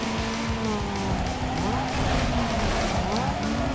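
Toyota Corolla racing in Need for Speed Underground 2, engine roaring continuously with shifting pitch and repeated tire skids and squeals, loud and close with no talk.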